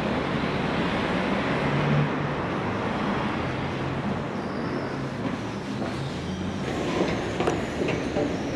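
Steady, loud rumble of a train rolling along the rails from Dundee to Aberdeen, with a continuous low roar and faint rhythmic clatter throughout.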